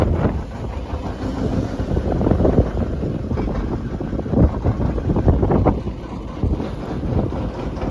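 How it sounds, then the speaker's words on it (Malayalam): Strong sea wind buffets a traditional anchovy-netting fishing boat out at sea, a continuous loud rushing roar and microphone buffeting with water and hull noise beneath, steady throughout with occasional gusting swells. "നല്ല അടിപൊളി പറത്തിക്കൊണ്ടുവരുന്ന കാറ്റ്"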